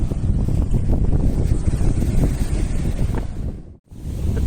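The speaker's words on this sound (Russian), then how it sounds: "И ветер сильный. Ай, какой ветер." Strong wind buffets the microphone on an open beach, a steady, loud roar with gusty surges and the wash of surf beneath, dropping out briefly near the end before returning.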